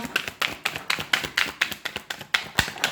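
Tarot cards being shuffled by hand, a quick series of crisp flicking taps in uneven bursts, close and fairly clear with no talking.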